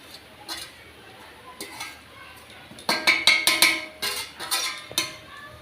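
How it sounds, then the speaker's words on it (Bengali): Grated Vim gel dish soap being stirred into hot water, with a utensil clinking and scraping against the container in a quiet stretch that turns into a run of sharp, close taps and clinks. "গরম জলে সাবানটা দেওয়ার পর সাবানটাকে হালকা করে এভাবে গুলিয়ে নেব"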